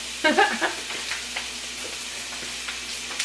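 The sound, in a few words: stirring vegetables and garlic sizzling in pan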